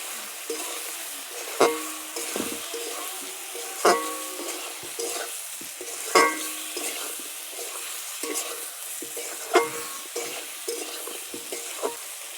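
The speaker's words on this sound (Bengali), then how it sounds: "এবার আমি ভালো করে কষিয়ে নেব" Catla fish with potol and potato sautéed with spices in a pan, a steady sizzle broken by regular sharp scraping and knocking strokes of a spatula every couple of seconds, close and clear, with no talk.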